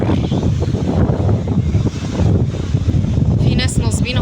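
Strong wind roars steadily into the microphone on a rocky beach at Marsa Matruh, loud and blustery throughout, with a faint rushing hiss of sea water beneath.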